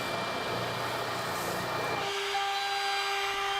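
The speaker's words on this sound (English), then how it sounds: "I've created this jig for my oscillating spindle sander, which allows me to flatten the headstock as well as sand a nice transition into the end of the fretboard." An oscillating spindle sander in a jig flattens a guitar headstock and shapes the transition into the end of the fretboard. It makes a loud, steady whirring grind heard on its own, and its tone shifts partway through.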